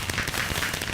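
Fireworks burst in a video game during a peaceful-mode fireworks show: a dense, continuous crackle of popping explosions fills the whole moment, fairly loud and close.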